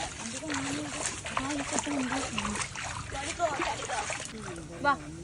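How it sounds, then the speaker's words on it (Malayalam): Ami, an American Bully dog, swims in a river, with soft splashes and sloshing water close by, partly under a person talking throughout. "ആമി കണ്ടോ ഒന്ന് നീന്തി വന്നോള്"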